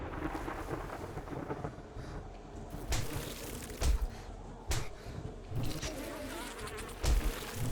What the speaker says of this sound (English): Fuck them bees.